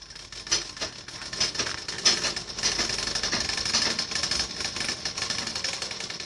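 A sewing machine stitches a blouse lining and fabric together in a fast, continuous mechanical rattle, close and fairly loud, with small surges in pace and no talking.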